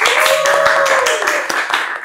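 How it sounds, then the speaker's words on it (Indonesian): Studio audience claps briefly in a quick burst of applause, close and loud, with a voice and a faint tone running underneath. "tepuk tangan dong"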